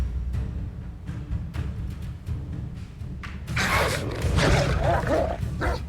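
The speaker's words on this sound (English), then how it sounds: "That's an angry dog." An angry dog barks in the Hogwarts Legacy video game, a run of sharp barks over a steady low game-ambience rumble, growing louder and busier toward the end.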